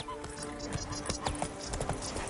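Horse hooves clip-clopping in a video game, a steady patter of light hoofbeats at a trotting pace, fairly close and continuous, with faint voices mixed in.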